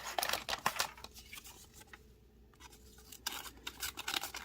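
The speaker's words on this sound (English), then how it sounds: "Scissors. Tiny. Let's see if they do something." Tiny scissors on an Otacle P1 EDC multitool snip in quick short strokes, a run of crisp close cuts, a brief pause, then more rapid snipping.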